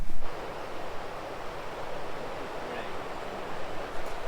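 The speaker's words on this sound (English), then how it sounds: "There is a huge waterfall coming through that dam over there." Huge waterfall pouring through a burst dam on a rain-flooded river, a broad continuous roar of rushing water heard from a distance, with wind buffeting the microphone.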